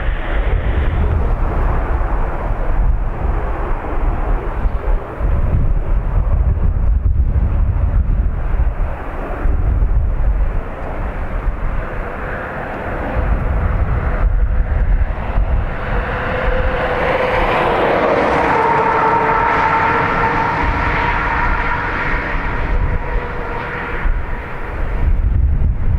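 A plane takes off from runway 28 right at Dublin Airport with a loud, steady engine roar that swells and shifts as it passes, heard from a distance through heavy wind buffeting on the microphone, with no talking.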